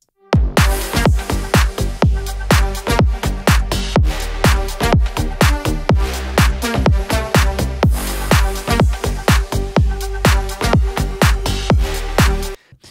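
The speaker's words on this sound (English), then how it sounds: "We got kick, clap, snare, and a really simple hi-hat." A steady drum loop thumps along for several bars: punchy kicks, sharp claps and snare hits, and a simple ticking hi-hat, loud and alone.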